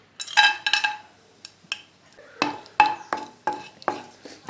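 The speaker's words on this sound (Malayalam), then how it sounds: "അതിലേക്ക് 1/2 ടീസ്പൂൺ കാഷ്നട്ട് ഇട്ട് കൊടുക്കാം, അണ്ടിപ്പരിപ്പ്." Cashew nuts go into melted ghee in a pan and are stirred, giving a series of sharp, close scrapes and clinks of a spoon against metal over a faint frying sizzle.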